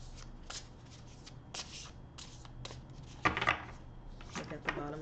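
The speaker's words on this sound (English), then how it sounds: "do you want me to pull another card on this?" A deck of tarot cards shuffled by hand during a reading: repeated close papery riffles and slaps in an irregular rhythm, with a louder burst near the end and faint room noise, no speech.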